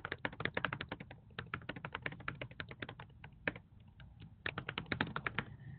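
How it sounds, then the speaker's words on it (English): Rapid keystrokes on a computer keyboard while composing an email message, a close, steady run of clicks with brief pauses, no voices. "I can write Dear Mrs. Perez, and then type her a message."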